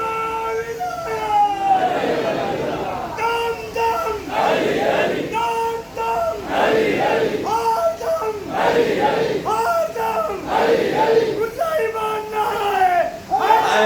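A crowd of mourners at a Muharram majlis on 5 Muharram chants a religious slogan in loud unison, the voices swelling in repeated rhythmic waves for the whole stretch.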